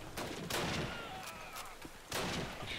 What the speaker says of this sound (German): Ich schieße lieber nochmal nach.